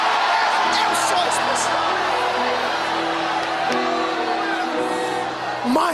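A church congregation shouts loudly in response to a preacher, a sustained crowd roar of voices that runs steadily through the whole stretch, with the preacher's voice speaking over it.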